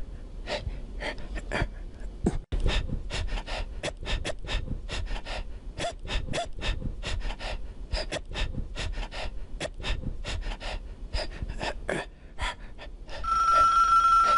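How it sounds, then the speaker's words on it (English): A telephone rings in the video game Bad Milk, a repeating bell-like ring in quick bursts over heavy gasping and panting breaths, fairly loud and close. "we have triggered a phone call"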